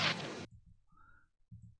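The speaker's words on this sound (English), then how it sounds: "what I've added is this scratch sample" Scratch sample from a producer's effects pack for bounce music: a dense, loud burst of turntable-style scratch for about half a second, then a quiet whine and a few soft low thumps trailing off, with no talk.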